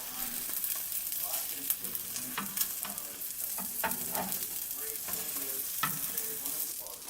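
Bacon omelette sizzles and crackles steadily in a frying pan as it is folded, with scraping utensil taps scattered through a continuous close, moderately loud fry.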